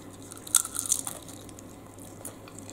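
Crispy fried food is bitten, giving a burst of loud, crackling crunches up close, followed by softer chewing.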